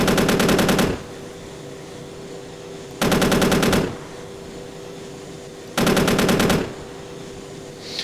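Three long bursts of automatic cannon fire from an AH-64D Apache Longbow's gun in Arma 3, each about a second of rapid, loud, evenly spaced shots, separated by quieter rotor drone.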